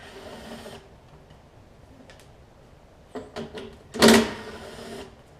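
Hand tool working bolts loose on a rough 22-inch Murray push mower, a few faint metallic clicks and a short grinding ratchet burst near the end, close by in an otherwise quiet space.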